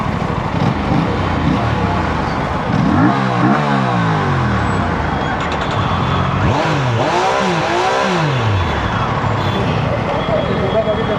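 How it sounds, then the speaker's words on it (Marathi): A car engine revs up in a couple of rising and falling bursts, loud and close on a roadside, while people talk over it and traffic noise fills the background. "अयो रेस करा साहेब."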